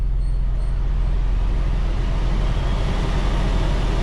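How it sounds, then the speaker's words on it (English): Tata Altroz Racer hot hatch air conditioner blowing hard inside the cabin, a loud steady broadband whoosh with a low hum and no talking. "The air conditioner actually sounds a bit like an aircraft."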